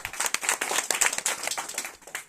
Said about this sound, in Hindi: उनके सम्मान में एक बार जोरदार ताली हो जाए